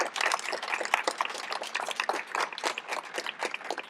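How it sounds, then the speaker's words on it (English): Dense audience applause at an LGBTQ+ Michigan historical marker ceremony: many hands clapping rapidly in a continuous, moderately loud burst. "let's give her a round of applause"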